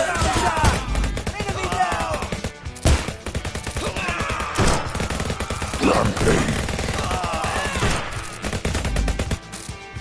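Rapid gunfire bursts from the VR shooter game Bulletproof VR, dense and continuous with sharp repeated cracks throughout, mixed under a game soundtrack and player talk.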